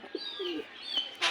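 Pigeons settled on their eggs in a fancy-breed loft let out soft, low cooing murmurs with a few faint chirpy notes over little more than a second, close by and quiet, with no talking.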